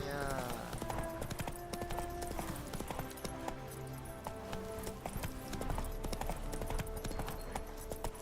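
Hooves of Roach, the horse in The Witcher 3: Wild Hunt, clopping steadily under in-game music and a voice, with a brief whinny.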